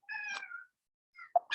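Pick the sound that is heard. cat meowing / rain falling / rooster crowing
cat meowing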